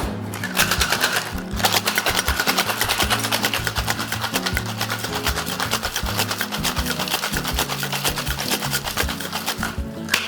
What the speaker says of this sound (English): So I'm just gonna shake this up.